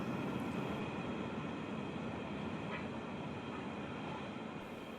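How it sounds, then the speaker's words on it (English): An empty coal train heading for the mines at Collinsville: a broad, continuous rumbling roar of rail cars rolling past, steady and fairly distant, with a faint high whine partway through. "This empty coal train is heading for the mines at Collinsville."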